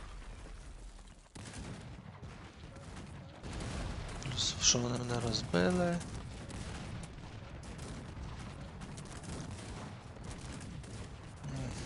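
Cannon and howitzer fire in the strategy game Cossacks 3 booms and rumbles as a battle background, with a brief cluster of sharper blasts mid-way, under someone talking.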